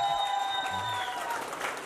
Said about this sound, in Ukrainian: Щось ви мало плескати.